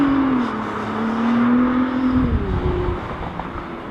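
A 2017 Nissan GT-R drives along with a steady engine drone that shifts pitch as it changes speed, close and continuous with no talk.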